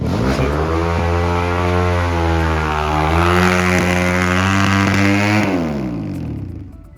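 A motorcycle engine revs loudly and steadily nearby, pitch rising and falling slightly, then fades as it cuts off near the end.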